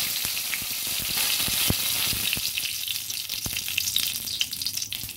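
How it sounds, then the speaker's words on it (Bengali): Two dried red chillies and a bay leaf dropped into hot oil, giving a steady, bright sizzle with crackling pops throughout, close and fairly loud, with no talking. "তেলটা গরম হয়ে গেছে। এবার দিয়ে দিচ্ছি 2টো শুকনো লঙ্কা আর একটা তেজপাতা।"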